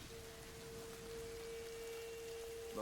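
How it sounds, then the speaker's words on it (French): Steady rain falls in the video game A Plague Tale, a soft, even wash of noise heard at low level and alone, with a faint tonal hum underneath. "Super, maintenant il pleut."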